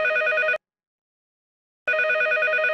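A telephone rings in two loud bursts separated by more than a second of silence, with no voices.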